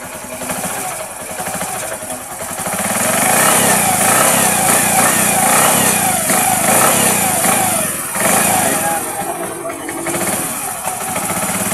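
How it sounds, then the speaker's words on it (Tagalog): A motorcycle engine fitted with a converted 4-pin CDI runs steadily and loudly up close, its rough, rattling idle swelling slightly midway and holding on throughout. "ang ganda ng andar ng ating motor"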